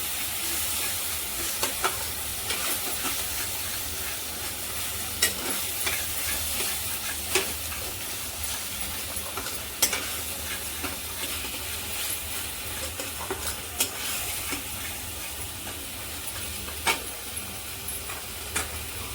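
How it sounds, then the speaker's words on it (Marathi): A tomato bhaji mixture with added tomato juice is stirred in a hot pan, giving a steady close sizzle and hiss broken by scattered spoon scrapes and clicks, with no talking. "छान मिक्स करून घ्यायचं"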